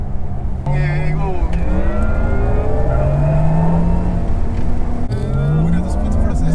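Porsche Taycan electric car accelerating in Sport Plus mode, with a loud synthetic whirring drive sound rising and gliding in pitch in repeated sweeps, heard from inside the cabin.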